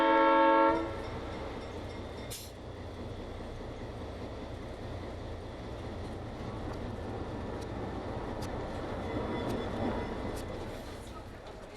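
A White Pass and Yukon Route train rumbles steadily along the tracks, preceded by a brief horn blast at the start, with the rolling noise continuing loud and even throughout.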